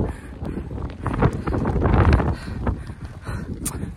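Strong wind at the Sangam river in Ladakh buffets the microphone in low, uneven gusts that swell toward the middle and then ease, with no talk over it.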